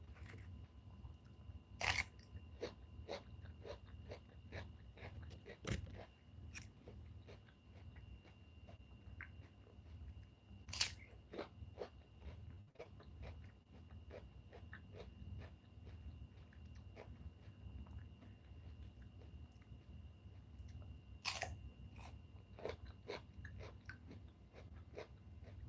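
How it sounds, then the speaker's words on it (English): Someone eating cucumbers, biting down in sharp, crisp crunches spaced irregularly over a low, steady background hum, with a few louder bites standing out and no speech. "I love these cucumbers. Listen to that crunch."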